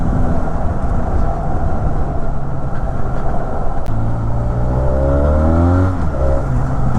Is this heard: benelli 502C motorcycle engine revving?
yes